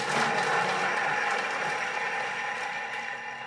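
A Thermomix TM5 food processor spins up at speed 5, a steady loud whirring motor drone close by that holds evenly for a few seconds and then eases slightly, with no voices.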